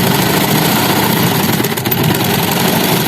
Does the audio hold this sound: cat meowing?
no